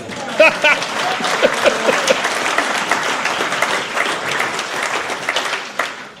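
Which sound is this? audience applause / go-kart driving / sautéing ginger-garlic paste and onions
audience applause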